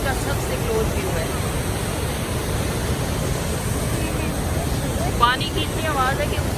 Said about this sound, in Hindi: पानी की इतनी आवाज़ है कि ऊंचा ऊंचा बोलना पड़ता है।